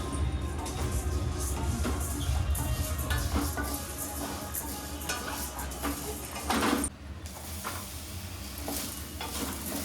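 Multigrain cereal dry-roasting in a pan for homemade baby food, a steady close scraping and stirring with faint sizzle and occasional light clinks of a utensil against the pan, continuous throughout.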